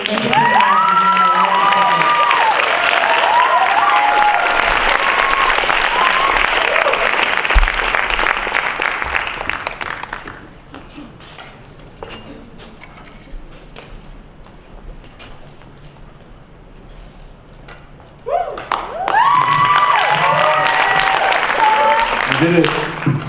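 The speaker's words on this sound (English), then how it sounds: "Ladies and gentlemen, please put your hands together and welcome Chid Liberté" An awards ceremony audience breaks into loud applause and cheering that fades to a quieter lull around the middle, then swells again near the end, with a voice speaking over parts of it.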